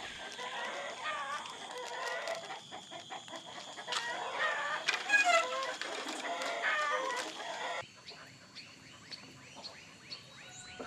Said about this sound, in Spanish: un joven atiende a sus gallinas